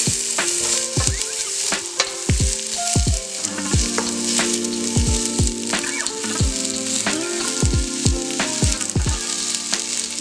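Vegetables sweating in olive oil in a skillet over medium-high heat, crackling and sizzling up close while sharp spatula taps and scrapes strike the pan again and again.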